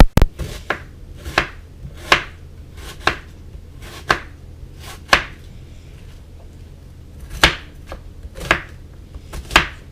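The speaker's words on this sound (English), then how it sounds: "now I got to chop up this onion" A knife chops an onion on a board in sharp, distinct thuds, about fifteen cuts in uneven bursts over ten seconds, close and clear with no talking.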